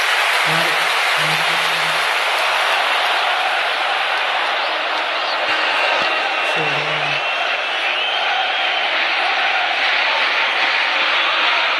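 Stadium crowd in an eFootball video game match, a broad, steady roar of cheering that fills the background with a few brief low tones, while a commentator talks over it.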